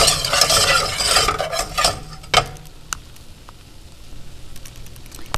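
Melting cheese stirred in a pan, with scraping and clinking of utensil against metal over a soft sizzle for the first two seconds, then a sharp knock and sparse quiet clicks as the stirring fades.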